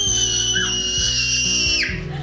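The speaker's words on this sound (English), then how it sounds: "Why do you have to scream?" A child's shrill, sustained scream lasts about two seconds, loud and close, then slides downward at the end, over a steady background rhythm.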